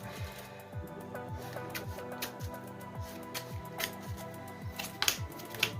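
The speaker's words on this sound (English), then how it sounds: "We'll shuffle, see what we get." A deck of trading cards being shuffled by hand, a quick run of repeated riffling swishes in a steady rhythm, close and fairly soft, ending with a few sharper taps.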